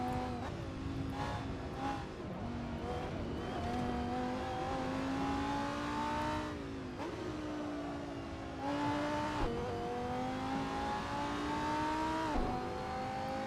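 Lamborghini Huracan GT3 racing in Assetto Corsa, its engine note rising and falling through repeated upshifts and downshifts, a steady simulated motor whine with brief dips between gears.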